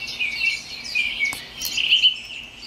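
Synthetic bird chirps and tweets from a baby crib mobile, bright and high-pitched, repeating steadily in a close, continuous electronic birdsong loop with no talking.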